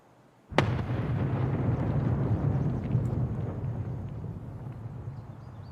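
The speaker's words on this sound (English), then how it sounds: "I'm gonna throw a nade." A grenade goes off in Escape From Tarkov with a sharp loud blast followed by a long deep rumbling roar that fades slowly over several seconds.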